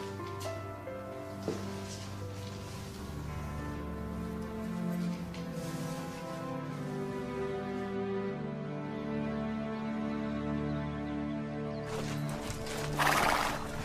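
Horses neigh and whinny over steady clip-clopping hooves in a rural setting, the sound continuous and fairly close with no talk.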